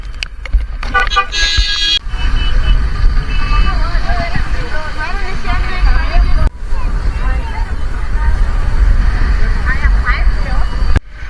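Rainy road traffic at Lonavala lake during the monsoon, with a steady wash of rain and passing vehicles, repeated car horn toots and a busy murmur of voices running throughout.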